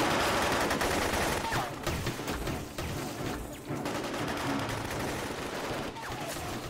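Machine gun fire in a Chinese anti-Japanese war film, a dense rapid rattle of bursts sweeping across a tree-lined roadside, sustained and loud throughout, mixed with soundtrack noise.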